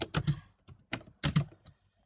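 Bursts of fast typing on a computer keyboard, close and crisp, come in three short clusters of clicking keys separated by brief pauses.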